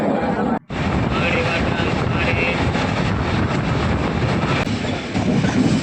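A loud, steady rumble and clatter of a moving train crossing the Bharathappuzha river, heard from on board, with faint voices under the noise.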